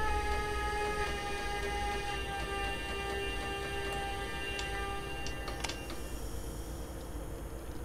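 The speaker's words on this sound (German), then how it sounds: "wir lassen den Zug auch ein bisschen rollen" A BR 185 electric locomotive hauling a Crossrail sand freight train rolls out of a station in Train Simulator 2020. It makes a steady low rumble with a faint high tonal whine and a few clicks, with no voices.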